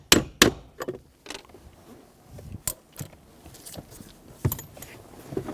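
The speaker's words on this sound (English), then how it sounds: "Using a hammer and a punch, we're going to start to punch the pole through the center console." Several sharp metallic hammer strikes on a punch, driving a hinge pin into a 2000-2007 Ford Focus center console, ring out at irregular intervals, close and loud, with quieter handling clinks between them.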